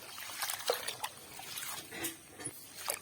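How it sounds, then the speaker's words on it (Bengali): Green leaves being washed by hand in a bucket of water, with soft trickles, small splashes and sloshing that rise and fall irregularly, fairly close and fairly quiet. "এই দেখো সব পাতা একটা বালতির মধ্যে নিয়ে এই যে ভালো করে ধুয়ে নিচ্ছি"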